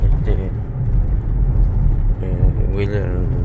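A car drives along a road at 2 a.m. on an emergency trip to the hospital, with steady engine and road rumble under people talking in the cabin.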